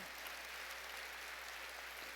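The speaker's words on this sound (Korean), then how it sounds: "깨달은 사람만 박수치라고." Congregation at a Korean church service applauding during a pastor's sermon, a faint, even wash of clapping heard from a distance that holds steady for about two seconds.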